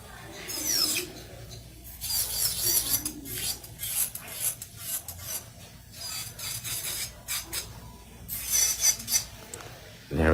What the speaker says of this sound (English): So I'm gonna go through and just drill it out.